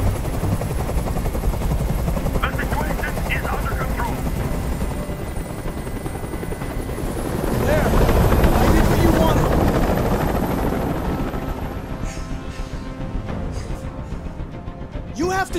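A helicopter in the video game Detroit: Become Human drones loudly and steadily overhead, its thumping rotor swelling midway then easing, with faint clatter mixed in.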